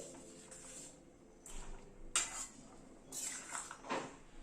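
A spoon clinks and scrapes against a cooking pot as roasted cumin and fennel powder are stirred into dal, several sharp metallic knocks scattered among quieter scraping, close and moderately faint.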